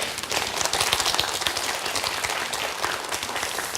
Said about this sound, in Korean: 역시 공자님한테 박수 한번 보내줘야 다 들어오시는 거 아니에요